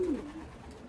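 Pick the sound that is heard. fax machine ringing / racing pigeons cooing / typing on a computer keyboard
racing pigeons cooing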